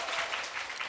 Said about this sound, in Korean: 박수를 치면 자주 치면 칠수록 건강해지고 여러분 기분도 좋아지는 거예요. 그래서 지금부터 딱 5초간 박수를 쳐보도록 하겠습니다